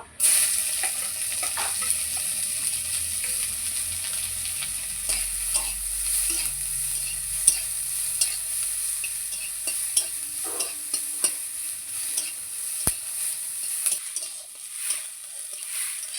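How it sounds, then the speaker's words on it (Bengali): Onion and garlic fry together in a pan with a steady close sizzle, broken by occasional stirring scrapes and light clinks of a utensil. "এইবার পেঁয়াজ আর রসুন একসঙ্গে ভেজে নেব।"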